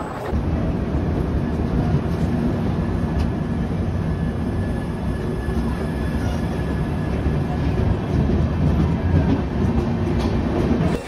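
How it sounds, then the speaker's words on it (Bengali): Steady, loud rumble of the Ganadevta Express running between Howrah and Azimganj, heard from on board in sleeper class, with continuous low roar and faint wheel clatter throughout, no talking. "বরাবরের পছন্দের ট্রেন হচ্ছে এই গণদেবতা এক্সপ্রেস"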